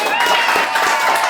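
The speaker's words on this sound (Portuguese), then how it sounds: "Uma salva de palmas de novo pra Isa." A studio audience applauds for Isa, a runner, at the close of a podcast-style interview, with steady clapping and light crowd noise throughout the short moment.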